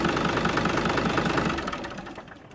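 A Kubota tractor engine running after being bled, a loud close diesel chug with a fast steady knocking rhythm that fades slightly toward the end.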